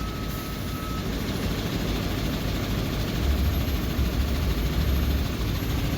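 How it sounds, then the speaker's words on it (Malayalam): A bus reversing on the Sathyamangalam mountain ghat road gives a continuous heavy engine drone that swells louder in the latter half, with a brief thin tone near the start. "ഇവിടുന്ന് ഒരു ബസ് റിവേഴ്സ് എടുക്കുന്നുണ്ട് കേട്ടോ"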